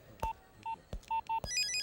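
A cell phone number being keyed in: six short, distinct dial tones spaced unevenly over about a second and a half, followed by a brief burst of higher electronic beeps, close and clear with no voices.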